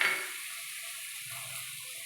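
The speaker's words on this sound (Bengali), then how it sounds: "এবার এটাকে একটু কষিয়ে নেব।" Mutton curry with cumin, turmeric and Kashmiri chili powder sautéing in a pan gives off a steady, even sizzle, soft and close, with no voices over it.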